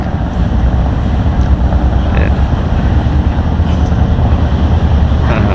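Strong wind at sea, where ship voyages in Masbate are cancelled, roars heavily into the microphone with deep low-end buffeting and surf-like rushing, continuous and loud.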